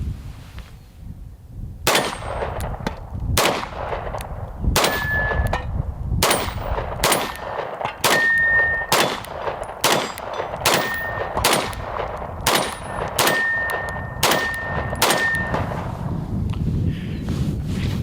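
Repeated gunshots from a budget Apollo 11 Compact ring out at an outdoor range, each sharp crack followed by a metallic clang from steel pepper popper targets, around a dozen shots spaced unevenly, loud and close.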